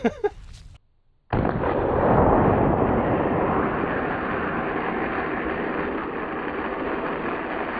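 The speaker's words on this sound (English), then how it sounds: "it's a lot louder out of the flare gun." A flare gun fires with a sharp, loud gunshot-like bang, followed by a long, roaring rush of noise that slowly fades.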